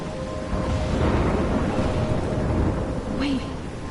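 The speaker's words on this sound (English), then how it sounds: "I'm trapped in a storm?" A thunderstorm in the game Life is Strange near a lighthouse: a dense, constant roar of heavy rain and wind with rumbling thunder, loud and unbroken throughout.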